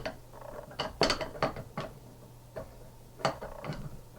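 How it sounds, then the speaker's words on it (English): The bolt and mechanism of an MG34 machine gun are handled, giving sharp metallic clicks and clacks in an irregular sequence, close and fairly quiet against a faint hum. "So again, pull back on the bolt, line everything up."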